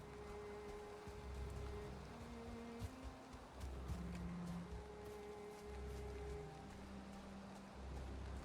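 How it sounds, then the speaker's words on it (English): Steady in-game rain falls in Valheim, a soft continuous hiss with low rumbling and tonal game sounds layered underneath, quiet and even for the whole stretch. "You can count on the game to rain whenever you're trying to do something important."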